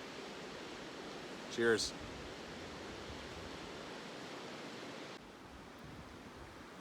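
A backcountry river flows as a steady, broadband rush under a mountain lookout, with a brief clink and a short spoken word partway through before the noise drops slightly.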